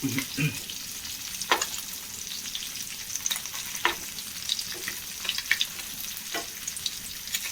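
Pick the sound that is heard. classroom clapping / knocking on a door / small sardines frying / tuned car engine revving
small sardines frying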